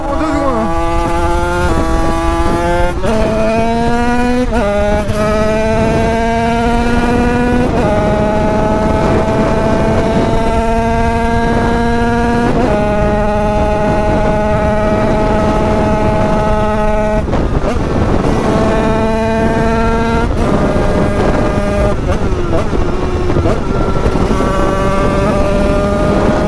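A 100cc 2Fast scooter's two-stroke engine revs hard and loud, climbing repeatedly through high revs with brief drops between pulls, steady and close throughout.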